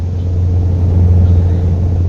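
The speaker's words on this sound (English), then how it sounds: "My little 580 horsepower V8 Scania chewing up the virtual roads." A 580 horsepower Scania V8 truck engine in a truck-driving video game drones with a deep, steady low rumble, loud and unbroken, with no talk.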